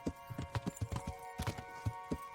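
Steady walking hoofbeats from a horse in Kingdom Come: Deliverance, an even clip-clop close up over a low steady hum, with no voices.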